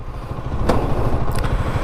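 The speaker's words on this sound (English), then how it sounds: "it's a very smooth sound from the exhaust" A 2021 KTM Duke 125 motorcycle engine idles steadily with a low, even exhaust rumble, and a brief higher clatter rises over it now and then.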